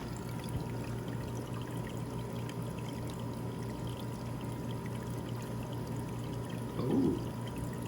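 Water returning into an aquarium through a float valve, a constant soft trickling pour over a steady low pump hum, with a brief gurgle near the end.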